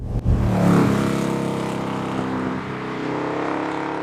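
De Tomaso Pantera engine accelerating hard, a loud, close, sustained roar with a deep pulsing note that swells early on, then holds a steady heavy drone; no talking.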